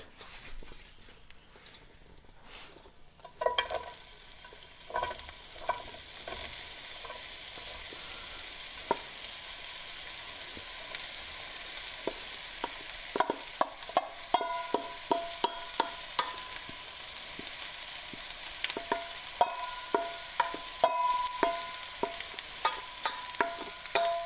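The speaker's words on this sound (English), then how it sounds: "I can hear that starting to sizzle." Spiralized squash spaghetti hits a hot pan and sizzles loudly and continuously, with frequent sharp crackles and pops and occasional stirring clatter close by.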